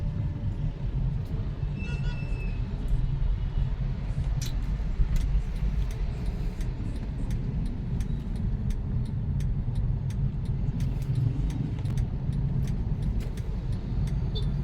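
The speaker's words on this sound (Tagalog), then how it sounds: "Ayan, medyo matraffic na dito." Steady road traffic on a street in Concepcion, Marikina City, Philippines, with jeepneys and cars: a continuous low engine rumble with passing vehicles and occasional faint clicks and higher noises, close and loud throughout, with no talking.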